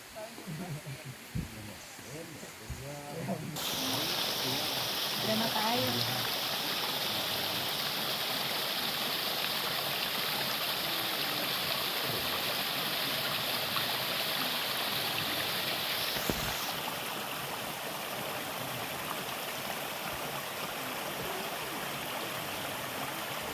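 Spring water flowing beside a bridge in the Halau-Halau mountains of South Kalimantan, a steady broadband rush that rises sharply after a few seconds and carries on close and continuous.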